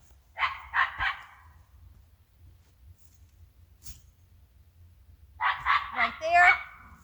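Puppies bark in short yappy bursts, two quick barks at the start and a longer run of yips and barks near the end, heard at moderate distance over a low steady hum with quiet gaps between.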